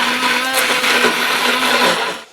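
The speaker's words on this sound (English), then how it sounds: "I'm just taking the hand blender" A hand blender whirs loudly and steadily as it breaks up cooked strawberry jam, then cuts off near the end.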